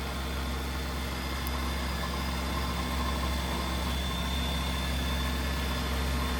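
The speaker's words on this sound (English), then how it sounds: "So here is a running 912 STi, puts out north of 155 horsepower." An EDGEPERFORMANCE 912 STi aircraft engine, rated above 155 horsepower, runs at a steady idle with a constant low drone and mechanical hum, unbroken from start to finish.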